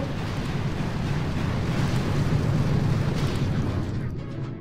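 Dense, rolling booms of explosions in the video game Boom Beach roar continuously at full loudness, a heavy rumbling barrage with no talking.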